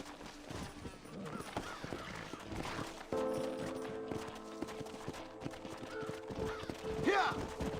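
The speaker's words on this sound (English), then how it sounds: "Horses are over here!" Horses in the Western video game Red Dead Redemption, with soft clip-clop hoofbeats and a brief whinny set among game music and voices.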